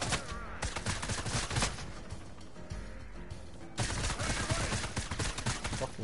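Rapid, continuous gunshots from a PS4 shooter game, dense loud bursts of automatic fire with a brief lull midway.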